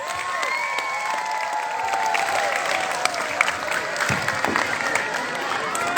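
An audience claps through a school student council candidate debate, a steady, sustained round of applause from a room full of students, loud and continuous from start to end.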